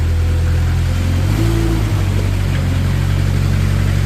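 A 2014 Moffett M55 truck-mounted forklift running as its mast moves in and out, a loud steady engine drone with hydraulic tones shifting in pitch as the mast moves.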